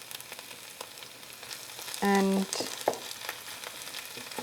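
Onions and bacon frying in a pan with a tablespoon of oil, a soft, steady sizzle and crackle close by, broken briefly by a clear tone and a small clatter, with a single word spoken.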